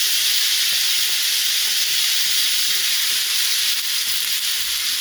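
Bright, vibrant vegetables sizzle steadily in a hot pan, a dense continuous hiss of frying that stays loud and even throughout with no talking.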